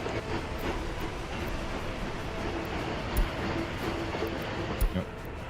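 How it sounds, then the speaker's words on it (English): Steady rumbling and rolling noise of a train in a 1930s-era railway simulation game set on flat land with hills, continuous and even, with a couple of faint clunks near the end. "Inside the choo-choo."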